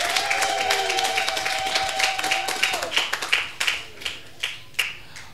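A church congregation claps hands in worship, dense applause-like clapping that thins into a few loud separate claps near the end, with a held tone and some voices in the background.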